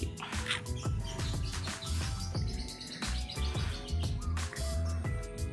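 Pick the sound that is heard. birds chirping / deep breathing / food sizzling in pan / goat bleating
birds chirping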